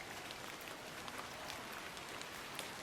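Steady rain patters in The Excavation of Hob's Barrow, a soft, even hiss of drops with faint scattered taps, quiet and continuous with no voices.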